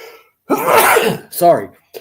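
A person sneezes once, loud and close, during a casual sports-talk conversation, followed by a short spoken word and another brief vocal burst.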